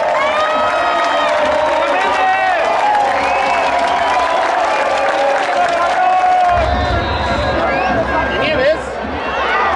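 A loud stadium crowd at a Cruz Azul versus Lobos BUAP match applauds, cheers and whistles as a player is substituted off, with shouts rising and dipping over about ten seconds.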